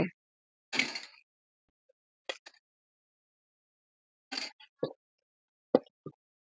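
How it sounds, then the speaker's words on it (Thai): Hot water from boiling bananas goes into banana and tapioca starch dough in small additions, making several separate wet plops and splashes with quiet gaps between them. The sounds are close and soft, with no talking. "ใช้น้ำที่ต้มกล้วยหอมร้อนๆนั่นแหละค่ะ เติมลงไป"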